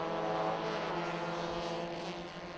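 Modified race car engines at a Thailand Super Series race give a steady buzzy drone with layered harmonic tones, moderately loud and fading slightly toward the end.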